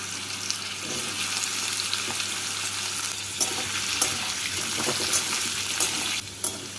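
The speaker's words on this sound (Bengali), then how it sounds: "আলুগুলো ভাজা হয়ে গেছে" Potatoes fry in a pan of hot oil and tempering for a milk-and-ridge-gourd dish, a steady broadband sizzle lasting throughout with occasional louder stirring scrapes and crackles, close and fairly loud, with no talking.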